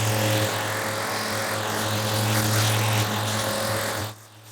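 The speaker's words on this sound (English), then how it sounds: "We're just gonna put our white pad on our sander and turn it down." A power sander fitted with a white finishing pad runs on an Oregon black walnut slab, a steady loud whirring hum with a constant low tone that cuts off abruptly near the end.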